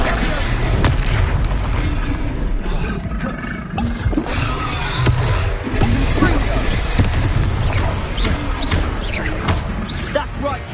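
Loud booming blast from a Confringo spell in a Harry Potter mod of Breath of the Wild, a dense rumbling explosion that carries on under game noise and shouting voices for the whole stretch.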